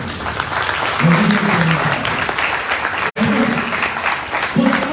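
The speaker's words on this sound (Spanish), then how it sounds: "Denle fuertes palmas al Señor." A congregation at a church retreat applauds loudly and continuously, with a brief dropout midway, while voices and speech carry over the clapping.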